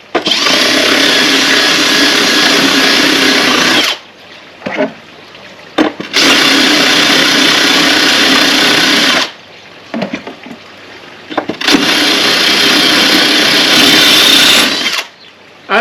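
Power drill with a tile bit boring into porcelain tile, loud and close: three long sustained grinding runs of several seconds each, separated by short quiet gaps with brief bursts.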